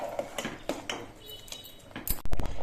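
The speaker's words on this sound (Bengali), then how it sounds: "খিচুড়িটা আবার নেড়ে দিচ্ছি মাঝে মাঝে কিন্তু কিছু হাতা দিয়ে নেড়ে দিতে হবে" A metal ladle scrapes and clinks against a pot while stirring khichuri made with parboiled rice, giving irregular close knocks with a few sharper clanks near the end.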